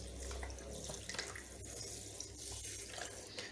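Water runs and splashes steadily from a tap into a basin as an English Angora rabbit is bathed, poured gently over its back, a continuous close trickle with no voices.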